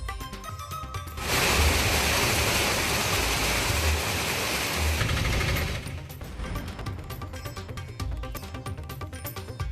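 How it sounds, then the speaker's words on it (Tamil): Heavy rain pours down in Gudalur in the Nilgiris district, a loud, dense roar that bursts in suddenly, holds for several seconds, then cuts back to a softer background wash. "1 மணி நேரத்திற்கு மேலாக நீடித்த மழையால் சாலைகளில் தண்ணீர் பெருக்கெடுத்தது."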